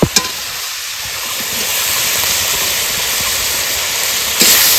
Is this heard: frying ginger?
yes